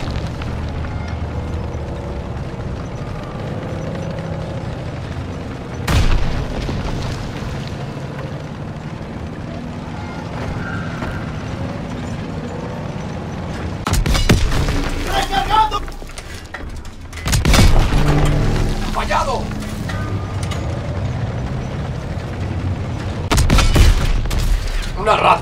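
Explosions from direct hits in the Call of Duty WW2 video game: several heavy booms at irregular intervals, loud and close, over a low rumbling battle background.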